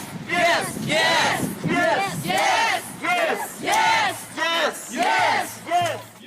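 A crowd of demonstrators at a Euromaidan rally in Rivne, Ukraine, chanting slogans in loud rhythmic bursts, about eight shouted phrases repeated with short pauses between them.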